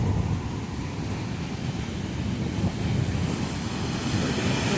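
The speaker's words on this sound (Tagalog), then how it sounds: "Ito yung dagat po. Lakas lang ng alon kaya hindi ka pwedeng magligo." Strong sea waves break on a beach in Zambales, a steady, loud roar of surf mixed with wind buffeting the microphone, continuous throughout with no voices.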